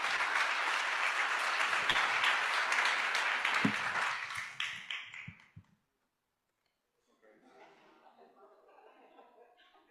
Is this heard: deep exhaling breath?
no